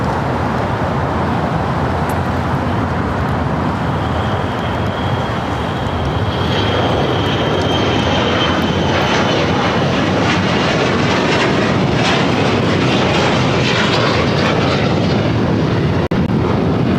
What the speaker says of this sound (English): KLM Flight 602, heading back to Amsterdam in the 787-10 Dreamliner,